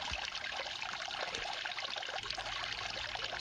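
Water runs steadily through a gold sluice box, washing fine gold-bearing material out the end, a continuous close trickling rush with no pauses and no voices.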